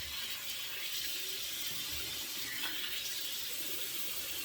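Tap water runs steadily into a bathroom sink as a face is rinsed after shaving with a Razorock BBS safety razor, a continuous close hiss with small splashy variations and no talking.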